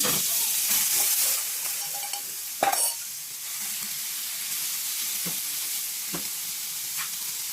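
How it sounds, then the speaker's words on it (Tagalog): Marinated pork dropped into a hot pan for a stir fry with vegetables, a loud hissing sizzle that bursts at first and then settles into a steady frying hiss with a few stirring scrapes. "Lagyan na natin itong binabad natin pork."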